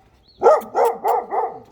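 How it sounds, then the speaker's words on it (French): A dog lets out four close, loud barks in quick succession on a winter walk in early December, each a short rough yelp with a slight whine. "C'est moi, n'aboie pas."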